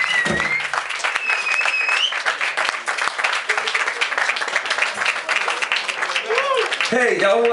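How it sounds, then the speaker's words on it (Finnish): An audience at a live performance of a cover song breaks into sustained applause and clapping, loud and continuous throughout, with a voice briefly heard near the start and again near the end. "antaa vielä isot raikuvat aplodit"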